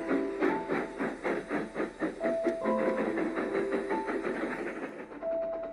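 A train rolls along with rhythmic clickety-clack, a few short whistle tones sounding over it, then the rumble thins out at the end.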